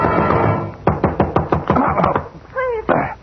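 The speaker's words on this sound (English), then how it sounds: "somebody was knocking on my door" A rapid series of about ten firm knocks on a door in an old-time radio detective drama, fairly close and loud, followed by a brief voice.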